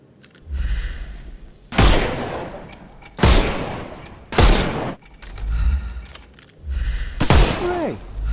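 In the video game Sherlock Holmes Chapter One, gunfire shoots the armour off enemies, with four or five loud, booming shot bursts at roughly regular intervals and ringing, metallic tails between them.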